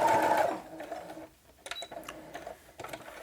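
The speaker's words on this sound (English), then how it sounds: "I'm going to be sewing all the way through the shoulder, all the way to the other side." A home sewing machine stitches a sleeve seam through the shoulder of a McCall's 7476 garment, a short whirring burst at the start followed by softer intermittent clicks and handling rustles.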